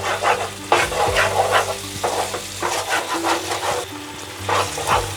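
Spices fry in hot oil for egg korma while a spoon stirs them, sending out repeated scraping strokes over a steady crackling sizzle, close and fairly loud, with no voices.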